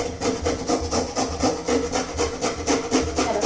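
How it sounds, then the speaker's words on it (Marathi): Carrots are grated by hand for sprouted mung bean dosa, making loud, rhythmic rasping strokes at a steady pace of about three per second, close and continuous. "सर्व गाजर मी असंच किसून घेते"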